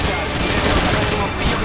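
Sustained loud automatic gunfire from Call of Duty: Modern Warfare 2 (2009), a dense unbroken burst of rapid shots close and overpowering, with no clear speech over it.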